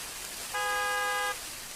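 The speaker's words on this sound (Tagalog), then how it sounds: "kinsa man sige busina sa sakyanan?" One car horn honks in a single steady toot of under a second, fairly close, against a soft hiss of background noise.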